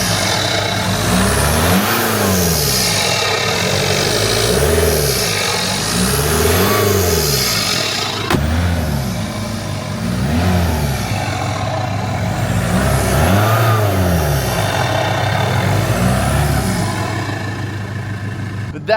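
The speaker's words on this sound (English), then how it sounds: "Go ahead and give us just a couple little revs." A Volkswagen MK6 TDI diesel fitted with an S&B cold air intake is blipped through a series of short revs from idle, each rise and fall clearly heard up close, with a loud, breathy intake note.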